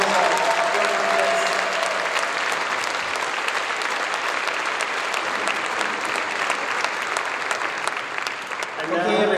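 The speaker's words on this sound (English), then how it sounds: "Please, another round of applause." A conference crowd at a TBEX travel event in Ostrava gives a presentation a long round of applause, thick and continuous clapping from many hands that holds steady at full strength for the whole stretch.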